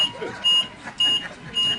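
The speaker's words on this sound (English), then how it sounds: "Someone must pull the fire alarm." A fire alarm beeps in three sustained, piercing tones about half a second each, separated by short gaps, sounding loud over room noise and a murmur of voices.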